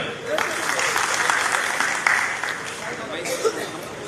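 An audience at a government regional office inauguration in Beed claps steadily and loudly throughout, a dense wash of applause with a few louder claps standing out and a light murmur of voices underneath.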